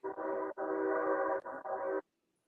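A train sounds its horn in a few sustained, steady blasts separated by short breaks, fairly loud against otherwise quiet surroundings, then falls silent.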